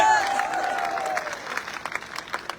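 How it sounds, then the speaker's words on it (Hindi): A rally crowd at the start of a political padyatra march in Datia claps together in sustained, fairly close applause that fades slightly toward the end, with a brief tonal sound at the start. "जरा ताली बजा के बताओ"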